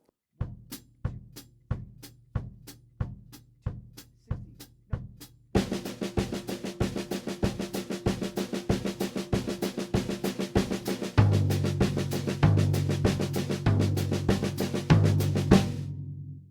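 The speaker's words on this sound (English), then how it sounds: "add just the snare drum and get that going on 16th notes" Steady single drum hits give way to rapid even sixteenth-note snare strokes, then a deeper floor tom joins in, played alone as a samba beat on drum set.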